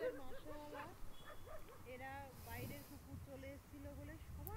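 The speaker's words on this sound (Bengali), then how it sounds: "বাইরে থেকে কোনো কুকুর ঢুকে পড়েছে মনে হয় ওদের এলাকায়, তাই ঘেউ ঘেউ করতে করতে তাড়াচ্ছে" Several dogs on Colva Beach in Goa bark, yip and whine as they chase off a stray dog, the rising and falling cries close by and overlapping, with a person talking over them.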